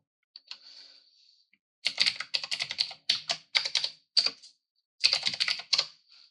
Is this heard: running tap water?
no